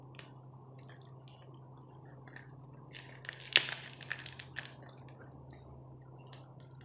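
Stiff heat-sealed plastic packaging around a UVC lamp crinkles, tears and crackles in short bursts, faint at first and then busier and closer for a few seconds.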